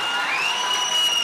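A short burst of dense audience clapping fills the moment, steady and fairly loud, with a thin high whine running over it.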